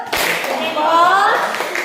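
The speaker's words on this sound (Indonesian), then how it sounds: "Kita kasih tepuk salut ya. 1, 2, 3 tepuk salut." A short burst of group clapping from many hands, fairly loud and close, with a voice and other voices mixed in.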